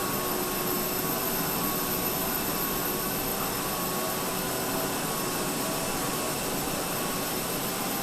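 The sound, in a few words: vacuum cleaner running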